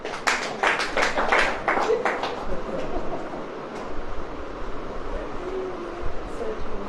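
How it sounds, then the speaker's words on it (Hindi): Audience at a church sermon clapping, a dense burst of applause at the start that thins into scattered claps and room noise, with a voice speaking over it. "ताली बजाओ।"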